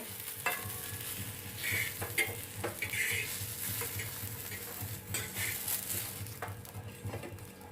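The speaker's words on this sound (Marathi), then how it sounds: "हे बघा आपल्या मिरच्या भाजलेल्या आहे मी आता गॅस बंद करते ह्यांना काढून घेते" Roasted green chillies are lifted out of a frying pan on a gas stove, with soft scraping and stirring clinks over a faint sizzle, close and fairly quiet.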